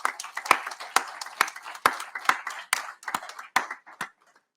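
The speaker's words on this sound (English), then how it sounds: "give a big round of applause to all our finalists" At a space forum award ceremony, a small group claps for competition finalists in sparse, distinct hand claps with clear gaps between them, fading out after about four seconds.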